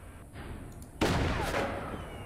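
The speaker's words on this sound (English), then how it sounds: "Counter fire with the sniper." Sniper counter fire in the strategy game Forts, a sudden sharp shot that bursts in loud and then rings off with a rushing tail, following a stretch of low background hum.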